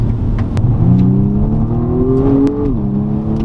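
A 2020 BMW 135i with a 2-litre four-cylinder revs up under acceleration, its engine note climbing steadily and then dropping briefly at a shift, loud and close inside the cabin, with no talk.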